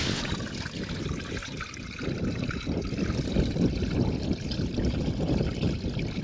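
Meltwater runs beneath lake ice beside a Maine trout and salmon spot, giving a continuous close trickling and gurgling wash of water with no talking.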